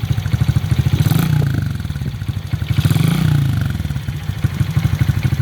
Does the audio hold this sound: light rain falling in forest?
no